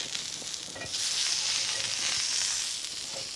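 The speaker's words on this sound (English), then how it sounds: "I'm gonna flip my asparagus" Salted asparagus sizzling in a pan, a steady close hiss of frying that swells slightly as the spears are turned, with no voices.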